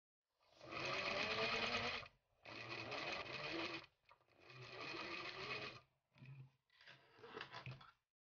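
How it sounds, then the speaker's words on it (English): A sewing machine stitches dress fabric pieces together in five bursts of rapid mechanical whirring, separated by short pauses, close and clear with no talk. "I stitch the pieces together and then top stitch with the seam allowance facing"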